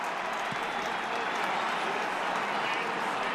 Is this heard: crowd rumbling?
yes